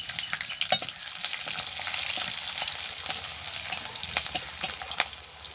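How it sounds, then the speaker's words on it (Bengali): Grated garlic and onions frying in hot white oil in a kadai: a steady crackling sizzle with scattered sharp spatters and stirring clicks, close and alone. "তেল গরম হয়ে গেছে, এবারে গ্রেট করা রসুনটা দিয়ে দেব। পেঁয়াজগুলো দিয়ে দেব।"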